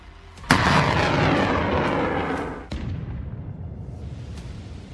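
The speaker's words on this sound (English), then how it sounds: "The coordinates are immediately transferred to the HIMARS, and the shot is fired." A HIMARS rocket strike on Russian artillery sets off a sudden loud blast that rolls on in a long rumbling roar, followed by a second sharp crack and a fading, distant rumble.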